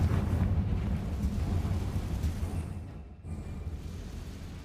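A Confringo spell blast in a Harry Potter game lands as a loud, low rumbling boom that fades over a few seconds, with a brief drop before a softer rumble resumes.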